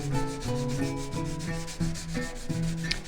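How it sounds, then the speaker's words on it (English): A chisel edge is honed with quick, rhythmic rubbing strokes on a 400 grit sharpening plate, repeating steadily under louder tonal background music. "These are mainly just quick little 20-second hits just to bring that edge to more of a polished edge."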